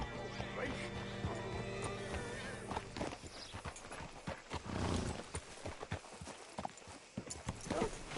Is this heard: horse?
yes